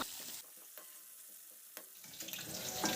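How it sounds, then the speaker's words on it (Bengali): Steady hiss of kuche fish (eel) frying in hot oil, with a few soft clinks and stirring sounds; the sizzle swells louder toward the end. "তেল গরম করে আমি মাছ ভাজা বসিয়ে দিয়েছি।"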